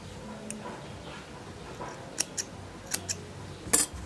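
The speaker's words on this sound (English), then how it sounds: "you can chain 1 and then cut your yarn." Scissors snip through crochet yarn with a handful of quiet, sharp clicks spaced over a few seconds, the last cut slightly louder, in an otherwise quiet room.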